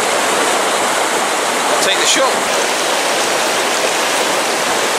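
Stream rushing with white foam through Plymbridge woods, a steady loud broadband roar of water, with a brief voice spoken over it midway.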